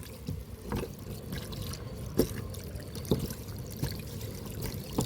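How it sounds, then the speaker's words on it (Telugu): A garden tap runs in a vegetable garden, giving a faint, steady trickle of water with a few soft drips and splashes scattered through it. "ట్యాప్ ఆన్ చేయి"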